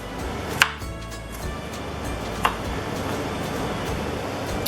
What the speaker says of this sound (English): we mince ours up kind of small, even if we're sauteing them.